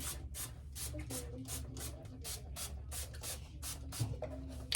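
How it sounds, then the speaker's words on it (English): Heat protectant spray is misted over wavy hair in a rapid run of short, soft, breathy bursts, close and fairly quiet, with faint rustling between them. "I use this heat protectant spray. I just spray this all over."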